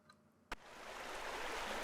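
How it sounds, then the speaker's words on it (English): In the Pool Cleaning Simulator video game, water pours steadily into a pool as a soft, rising rush of flow following a single sharp click, fairly quiet throughout. "I hear water."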